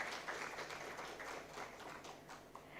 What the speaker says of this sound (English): a big round of applause for all the volunteers